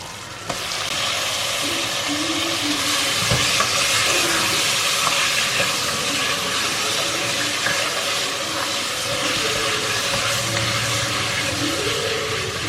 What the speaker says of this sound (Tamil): சிக்கன் போட்டுட்டு நான் வந்து 2 minutes போல் நல்லா சாட்டே பண்ணிட்டேன்